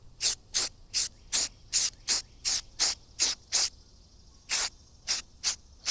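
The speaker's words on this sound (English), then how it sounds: "just to spray the back of these grills" Short bursts of aerosol spray paint hiss onto the back of car dashboard grills in a quick, even rhythm, a pause, then several more sprays, close and crisp.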